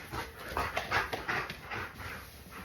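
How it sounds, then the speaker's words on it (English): Dogs panting rapidly and close up, a rhythmic run of breathy huffs with a faint whimper mixed in and no talking. "There's some dogs right there."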